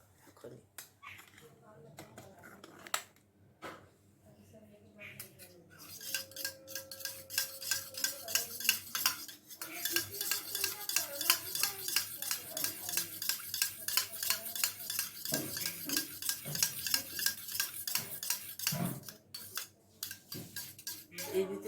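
Curd being whisked in a half-full bowl to make sweet doi at home, a steady fast rhythmic scraping and clinking of a spoon against the bowl that goes on for most of the time, with a few quiet words of talk near the start.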